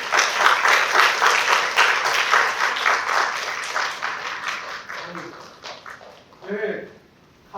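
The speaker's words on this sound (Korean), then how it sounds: "박수 한번 하실까요?" An audience at a church lecture for evangelists breaks into loud, sustained clapping that gradually thins out and fades, followed by a brief voice and a short final burst of applause.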